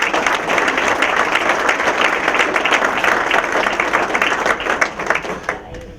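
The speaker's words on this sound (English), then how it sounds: "So can we applaud now?" An audience at a chamber of commerce annual dinner claps loudly and steadily for several seconds, a dense wash of many hands that thins and trails off near the end.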